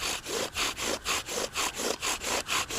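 A wooden bow drill spindle spins against a wooden fireboard during friction firemaking, with speed and pressure building. It makes a loud, steady sawing rasp of about ten quick back-and-forth strokes, close up, with no talking.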